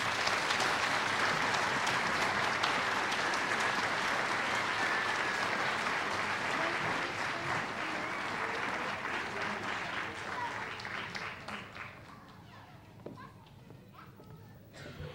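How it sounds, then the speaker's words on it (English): Audience applause for teachers at a second grade school musical, a dense clapping crowd that is strong at first and gradually thins and fades toward the end, with voices mixed in. "Give them a nice round of applause."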